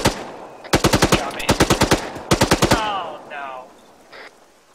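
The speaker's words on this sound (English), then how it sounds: "I'm gonna open fire anyway." Rapid bursts of automatic gunfire in the Arma 3 military shooter, loud and close, with clipped volleys separated by brief pauses, followed by quieter distant whistling and rumbling echoes.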